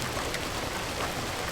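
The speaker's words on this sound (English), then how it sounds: "It's raining now, so it's a little noisy" Steady rain falls in the farming game Saelig, a dense, even hiss of drops on surfaces that holds throughout the short clip with no talking.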